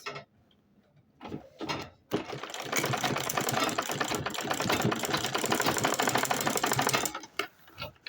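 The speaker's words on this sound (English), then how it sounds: "Measure 1 inch and sew it." A sewing machine stitching a water bottle bag: a few short stops and starts, then a steady fast mechanical whir of about five seconds before it halts.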